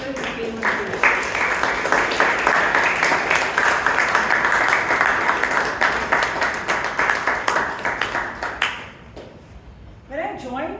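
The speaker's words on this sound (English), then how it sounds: "Can we have a big round of applause for all the role takers and all the speakers who came on stage?" An audience at a Toastmasters club meeting gives a long round of applause for the speakers and role takers; dense clapping fills most of the clip, then fades out as a voice begins to talk.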